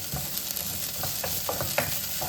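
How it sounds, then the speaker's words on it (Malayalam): Jeerakasala rice dry-fries in a pan for a beef biryani, giving a soft continuous sizzle with light scraping stirs and brief clicks, close by and without speech. "ഞാനെപ്പോഴും ജീരകശാല റൈസ് ആണെങ്കിൽ ഇങ്ങനെ വറുത്തെടുക്കും."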